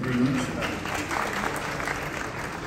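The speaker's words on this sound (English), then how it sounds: "please just give her a round of applause" A brief round of applause from an audience at a Nigerian diaspora meeting in New York, moderately loud and steady, with a voice speaking over it.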